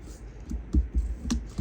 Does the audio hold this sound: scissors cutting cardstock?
yes